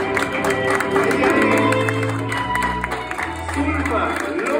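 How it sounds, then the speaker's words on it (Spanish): Wedding guests clap for the bride in a banquet room, applause and murmuring crowd noise mixed under background music with low sustained tones. "recibamos con un fuerte aplauso a la flamante novia"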